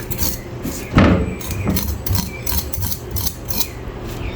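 A knife scrapes scales off a fish, a series of short rasping strokes with one harder scrape near the start, close and fairly loud, and nobody talks.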